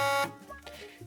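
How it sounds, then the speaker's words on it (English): A World of Warcraft Blackwater cartel mount gives off a loud, harmonic electric buzz for about a quarter second. Quieter, busier sound follows it. "Blackwater, we have the buzzer."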